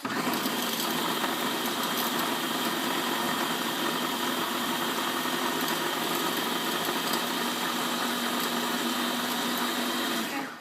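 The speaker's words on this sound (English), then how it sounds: "So I'm going to blend mine up now." Beaba Babycook blending baby food, one continuous loud motor whir held steady for about ten seconds before it cuts off abruptly, close up with no talking.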